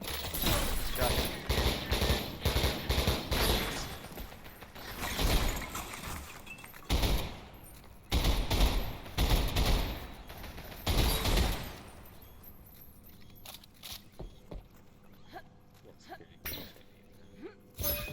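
Shotgun blasts in the shooter game Selaco, several loud booming shots amid a chaotic firefight, with someone speaking over the action.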